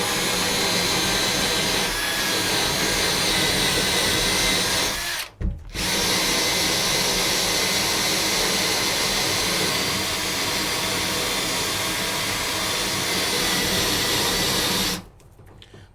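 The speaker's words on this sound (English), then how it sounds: "The next thing here on the list to try out is the rotating brush." A drill spinning a rotating brush whines loudly and continuously while scrubbing contact glue residue, briefly stopping near the middle before running on, then cutting off at the end.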